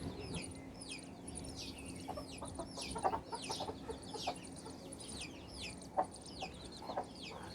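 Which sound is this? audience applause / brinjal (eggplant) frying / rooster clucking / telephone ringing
rooster clucking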